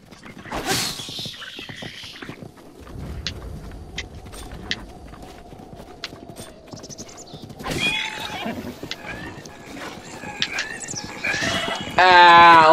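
A horse in the video game Breath of the Wild whinnies loudly early on, followed by scattered hoof clops, game effects and a bright burst near the end, with sparse sounds in between.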